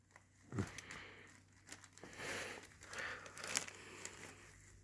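A cat rustling plastic bags, crinkling in irregular bursts, with sharp crackles and a thump, close by and fairly quiet.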